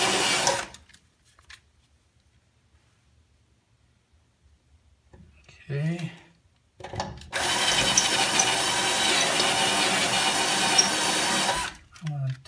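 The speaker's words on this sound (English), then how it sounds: "I'm going to auger this out a little bit more" A handheld pneumatic tool augers out a hole to fit a nutsert, a long steady high whirring run after a short burst and a brief silent pause, close and fairly loud with light clicking at the end.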